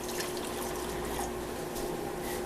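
Almost boiling water is poured onto Knox gelatin for a strawberry angel food cake, giving a quiet, steady liquid stream with a faint constant tone beneath it.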